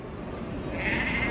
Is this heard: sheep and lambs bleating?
yes